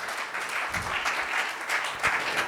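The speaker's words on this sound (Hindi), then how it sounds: "एक बार उनके लिए भी तालियां हो जाए।" Audience applause at a business meeting fills the room with steady, dense clapping that holds at an even level throughout, with no voices over it.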